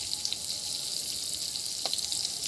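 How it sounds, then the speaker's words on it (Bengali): Pieces of a large grass carp fry in a pan, a steady, dense hiss of oil with one brief clink partway through. "মাছটা এখন কীভাবে ভাজছি তোমরা দেখো"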